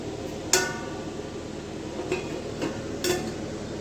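A metal lid set onto a pot of prawn thokku, heard as a few sharp, ringing clinks spaced a second or so apart over a quiet room hum.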